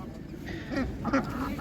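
A duck at an animal market gives a couple of short nasal quacks near the end, close and moderately loud over a low murmur of background noise.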